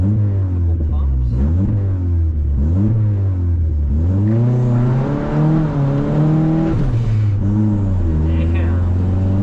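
Turbocharged 1996 Honda Civic D16Y7 with an eBay turbo at 8 psi, stock tune and 240cc injectors, accelerating at part throttle under boost: a loud, continuous engine drone that climbs and dips in pitch through several pulls.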